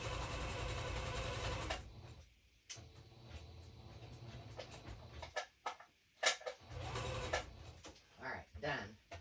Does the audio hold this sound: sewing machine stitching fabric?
yes